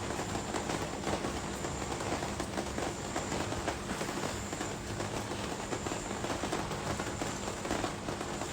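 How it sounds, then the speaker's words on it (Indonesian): Heavy rain pours steadily at close range, a dense, continuous broadband wash with no breaks across the whole stretch and no talking over it. "Hujan, ya hujan banget."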